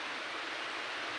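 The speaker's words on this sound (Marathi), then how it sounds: "खूप पाऊस पडतोय बाहेर।" Heavy rain falling outside a home during monsoon weather, a steady dense broadband hiss that continues evenly and fairly quietly throughout the brief stretch, with no voices.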